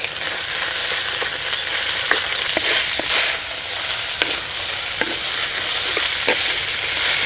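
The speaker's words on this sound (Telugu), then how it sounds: "అల్లం వెల్లుల్లి పేస్ట్ కూడా వేసుకొని పచ్చివాసన పోయే వరకు బాగా వేయించుకోవాలి" Ginger garlic paste frying in a pan for raw jackfruit biryani, a steady close sizzle broken by scraping stirs and occasional clicks of the spoon against the pan.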